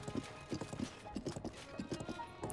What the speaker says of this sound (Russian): Лошадь уже заебалась скакать даже.